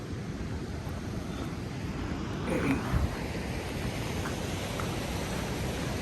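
Ocean surf surging into a sea cave at Point Buchon, a steady broadband wash of water and wind with a brief louder surge and boom near the middle, fairly close and unbroken by talk.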